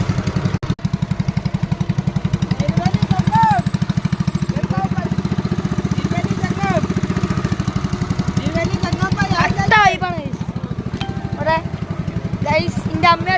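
A boat's motor runs at a steady, loud, fast-pulsing idle throughout, with people talking over it and some chirpy sounds on top.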